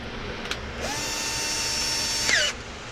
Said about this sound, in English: guide this Forstner bit as you start the hole